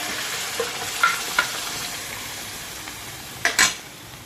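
Ground masala paste frying in a pan of tempering with bay leaf and fennel for paneer butter masala, a steady close sizzle broken by a few light spoon scrapes and clinks.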